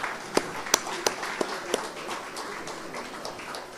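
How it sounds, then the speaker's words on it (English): A gala networking audience of elected Haitian officials in New Jersey gives a faint, scattered round of applause, with a handful of distinct claps at the start that thin out into soft background murmur. "I would like all of you to give yourselves a round of applause for being here"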